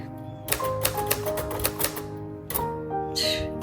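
Keys strike on a 1956 Royal Quiet Deluxe manual typewriter, a close burst of sharp clacks in an uneven rhythm with short bell-like tones, a brief pause, then a few more strikes and a carriage sound.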